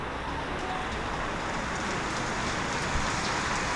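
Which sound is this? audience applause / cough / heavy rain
heavy rain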